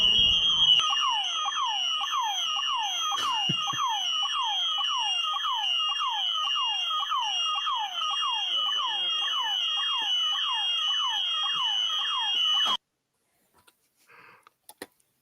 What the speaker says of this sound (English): All the alarms in the background.